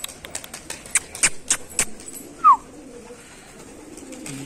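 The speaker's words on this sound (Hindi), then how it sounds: "हाई फ्लायर कबूतर है, बाकी भी सारे आ रहे।" High flyer pigeons at a home loft, with a string of soft wing claps and flutters from birds landing, then a single brief louder call; faint background noise and no talk.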